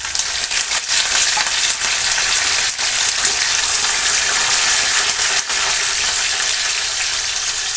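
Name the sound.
washed curry leaves crackling in hot oil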